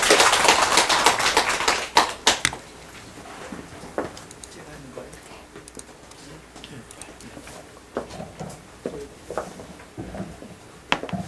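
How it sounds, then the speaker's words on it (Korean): Audience applause at a Korean Buddhist study group's Diamond Sutra research presentation, a dense burst of clapping in the opening two seconds that thins into scattered claps and taps through a quieter room. "박수 부탁드리겠습니다"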